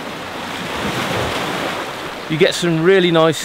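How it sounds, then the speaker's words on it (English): Large boat-wake waves crash against rocks on a beach at Kassiopi, Corfu: a continuous loud surf roar with wind buffeting the microphone, and someone talking near the end. "as soon as we get a really big wave hitting these rocks"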